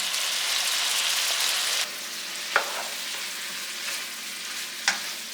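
Steak sizzles steadily in butter and bacon grease on medium heat, a dense close frying hiss that drops slightly partway through, with a couple of sharp pops.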